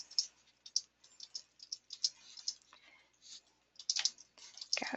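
Quiet clicking of keys as text is typed on a computer keyboard, irregular taps and short bursts, close and soft.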